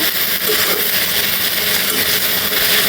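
Homegrown okra frying in hot oil makes a loud, close, continuous sizzling hiss that stays dense and even from start to finish.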